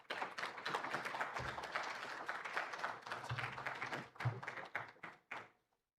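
An audience applauds at a conference day event, a dense patter of clapping with a few thuds, sustained for several seconds before fading out.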